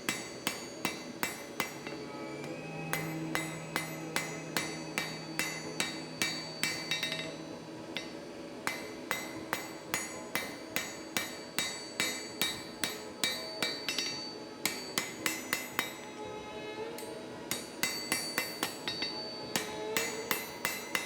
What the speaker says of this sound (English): To chamfer, I forge the edges of the bar and remove the sharp corner.